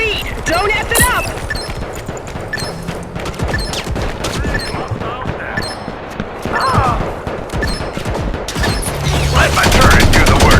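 Turret gunfire in the mobile shooter Modern Combat Versus during a zone-control match, dense overlapping bursts of shots and impacts running throughout, with game voice callouts layered over the battle.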